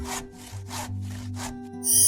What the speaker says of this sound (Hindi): कद्दू इतना बड़ा था कि लक्ष्य और उसके बीवी को मिलकर आरी से काटना पड़ा।